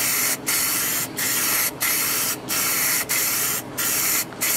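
Light coat of spray paint applied to a cabinet during restoration, in close, loud bursts of hiss with brief gaps between about seven passes; no talking.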